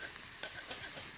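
Onion and garlic sizzle steadily in a frying pan while being stirred, giving a soft, continuous hiss with faint scraping.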